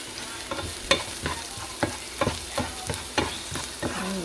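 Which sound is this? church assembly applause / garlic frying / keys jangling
garlic frying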